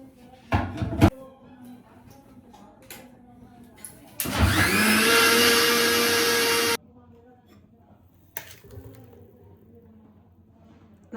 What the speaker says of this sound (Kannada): ಅದ್ರ ಬದಲು ನೀವು ಅನ್ನನ ಮಿಕ್ಸಿಗೆ ಹಾಕ್ಕೊಬೋದು.